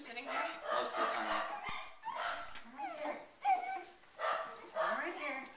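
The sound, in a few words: dog whimpering and barking in greeting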